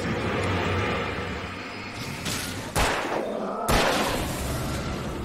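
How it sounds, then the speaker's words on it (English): Two sharp gunshots ring out in the Alan Wake video game, spaced about a second apart, over a steady dark ambient rumble of a night forest. "Two shots."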